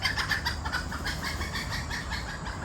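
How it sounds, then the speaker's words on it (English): Chickens roaming a property in Malaysia cluck in a dense, continuous chorus, several birds close by with a steady murmur of others behind them and no voices over the top. "We got chickens everywhere."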